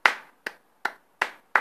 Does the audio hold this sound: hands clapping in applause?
yes